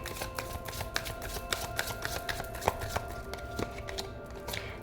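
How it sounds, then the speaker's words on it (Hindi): Tarot cards are shuffled and picked by hand during a reading, giving a quick run of crisp, close riffling flicks and taps with no talk over them. "Let's pick 3 more cards."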